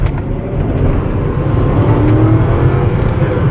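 Engine of an Infiniti Q45, third-generation F50 sedan, droning steadily and loudly from inside the car as it is driven, with a low continuous rumble and no voices.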